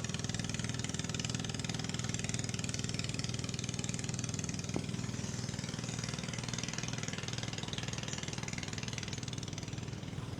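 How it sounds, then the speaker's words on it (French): A V8 engine idles nearby in Bangkok with a constant low rumble and even hum, running without change for the whole stretch. "C'est un moteur V8, ça, je reconnais."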